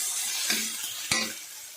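Cumin powder and spices fry in a pan with a soft, continuous hiss, broken by two quick clinks of a utensil against the pan; no speech.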